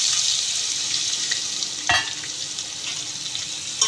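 Mustard seeds, cumin, asafoetida, garlic cloves and curry leaves fry in hot oil as a tempering for chana moth, giving a steady close sizzle with one sharp pop partway through.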